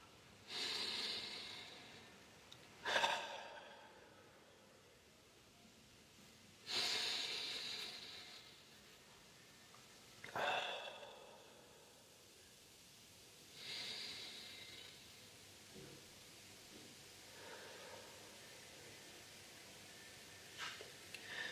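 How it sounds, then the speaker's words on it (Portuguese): Deep, slow breathing by a single person, about five long inhale-exhale cycles spaced evenly a few seconds apart, soft and breathy, close and quiet with no talking. "respira fundo comigo 3 vezes"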